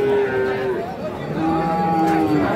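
A Friesian cross bull calf at a cattle market moos in two long, loud, close calls over a busy background murmur of the market crowd.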